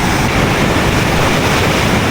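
Sea waves wash onto a shore at Sorsogon, a loud, continuous broadband roar of surf mixed with wind buffeting, close and unbroken.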